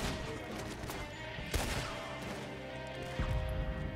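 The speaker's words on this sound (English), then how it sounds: "I got shot by the cannon" Cannon fire and gunfire in a Red Dead Online fort battle, two sharp booming blasts about two seconds apart over a dense, continuous din of shooting and clatter.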